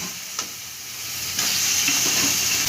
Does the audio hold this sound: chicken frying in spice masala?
yes